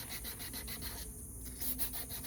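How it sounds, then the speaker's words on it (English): Sandpaper rubs steadily back and forth over a PVC plumbing pipe, a close, continuous abrasive scratching with rhythmic strokes and no talking. "Little sandpaper to clean up the pipe right here."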